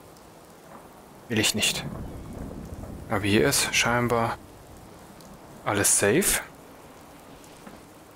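Rain falls steadily in Fallout 4 VR, a constant hiss under someone speaking German in short bursts close to the microphone, with no clear thunderclap standing out.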